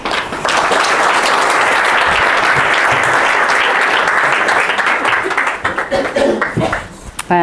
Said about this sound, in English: we give Claire a huge, big clap and welcome